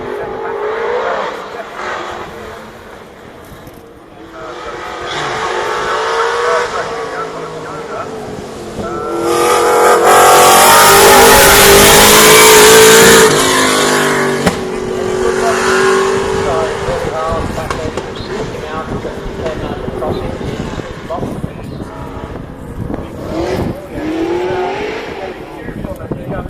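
A Ford Escort Mark II rally car at Shelsley accelerates hard, its engine revving up through the gears and swelling loud as it passes, with a commentator talking over the noise.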